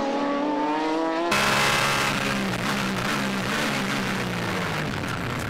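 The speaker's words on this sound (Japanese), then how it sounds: "アキラ NSX はクニさんに交代、2位から徐々に抜かれて4位を走行中。" Honda NSX and other GT championship race cars in a 1999 All-Japan GT race, engines howling loudly with rising and falling revs as cars pass close by, a dense continuous roar of several cars at once.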